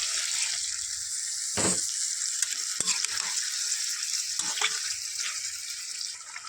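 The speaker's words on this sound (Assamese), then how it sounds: "এয়া উতলি আছে" Chicken curry with cumin and coriander boils in a pot after water is added, giving a steady close bubbling and sizzling hiss with occasional stirring clinks.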